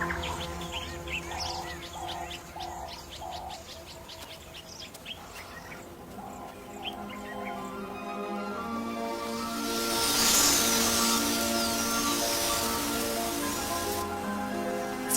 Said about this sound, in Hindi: सूरज ढलने पर क्वेलिया पक्षियों का बड़ा सा झुंड एक साथ इकट्ठा होता है।